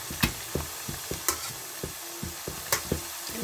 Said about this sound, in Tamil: இப்போ பார்த்தீங்கன்னா புதினா சாப்பாடு வந்து நல்லா கிளறிட்டேன்